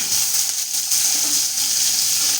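Onions frying in a pan of hot oil with cumin and chilli, a steady close hiss of sizzling that runs without a break.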